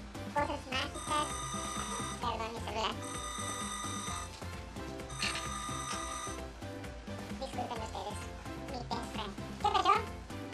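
A mobile phone rings during a Spanish-language book chat, a repeating electronic ringtone melody in bursts over about ten seconds, close and moderately loud.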